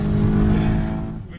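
Volkswagen Golf 8 GTI engine roaring loud and close at a race launch, a dense steady drone that holds strong before tapering off at the end.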